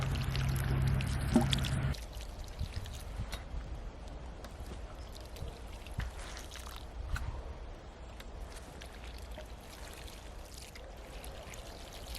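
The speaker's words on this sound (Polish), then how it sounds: "biorę konewkę i do tych rowków nalewam wody" Water pours from a watering can into prepared soil furrows in a garden bed, a soft continuous trickle and splash at close range, louder at first and then settling into a quieter, steady flow.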